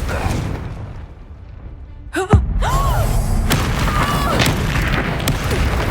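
A Confringo spell in the Hogwarts Legacy video game bursts with a sudden whooshing blast and booming thud midway, set against ongoing game effects and a busy background rumble.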